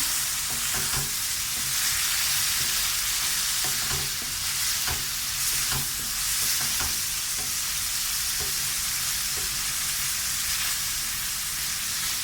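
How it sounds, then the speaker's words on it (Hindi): Chopped tomatoes fry in a karahi for beef keema, with a loud, continuous sizzle and hiss and the occasional soft scrape of stirring. "3 से 4 अदद टमाटर डालते हैं, चॉप किए हुए। अच्छी तरह से इसकी भुनाई करेंगे।"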